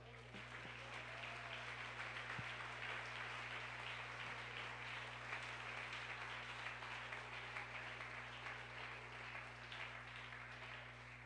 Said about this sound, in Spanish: Aplauso a Él.